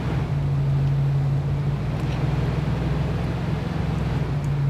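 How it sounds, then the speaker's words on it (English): A vehicle engine in the military game ArmA 3 hums as a steady, low, even drone throughout, with no breaks. "this is an engine noise I can live with"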